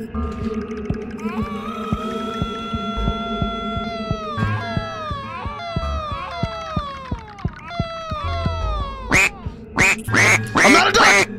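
Repeated, rapid quacking in the horror game Tonsil Terror, honking cartoonish calls stacked over a thumping rhythmic beat, ending in a few loud, sharp bursts.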